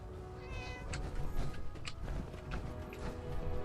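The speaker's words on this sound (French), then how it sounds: "C'est moi où j'ai entendu un chat." A cat meows in Fallout 4, several short plaintive cries repeating over a low ambient game background, fairly close and clear.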